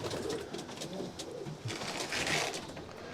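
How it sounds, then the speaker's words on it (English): Racing pigeons coo softly and steadily inside a loft, with many birds calling and overlapping in a continuous murmur, close by and with no talking. "This is where he's going to be flying the marathon pigeons."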